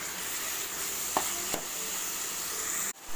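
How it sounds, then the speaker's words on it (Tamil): Onions sautéing in a pan, a steady even sizzle with a couple of sharp clicks from stirring, then a brief pause and resumption at the end. "வெங்காயம் நல்லா வேகட்டும்"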